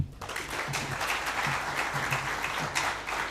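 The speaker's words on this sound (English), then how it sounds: "Round of applause once again. Big round of applause from our hosts." Audience applause at the official opening of a global forum in Victoria Falls, Zimbabwe, as continuous crowd clapping of moderate loudness with a few sharper individual claps, heard without speech.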